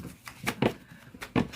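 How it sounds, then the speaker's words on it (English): Tarot cards being shuffled by hand give a quick series of soft riffling bursts, close and moderately quiet, with no talking. "as I do this shuffle"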